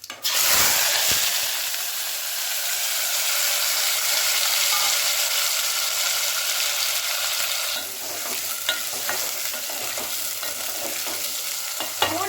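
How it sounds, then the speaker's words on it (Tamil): Peeled garlic and onions dropped into hot oil for a spicy Tamil garlic kulambu, a loud steady sizzle and crackle throughout with occasional stirring scrapes and clinks toward the end. "இந்த உரிச்சு வச்சிருக்க பூண்டும் வெங்காயத்தையும் போட்டுடலாம்."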